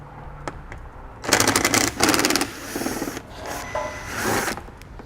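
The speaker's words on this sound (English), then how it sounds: "I'm going to be using a T25 Torx bit to remove them." A T25 Torx bit driver backs out fascia fasteners on a 2017 Ford Escape, giving short bursts of rapid ratcheting whirr between quieter pauses, close and fairly loud, with no speech.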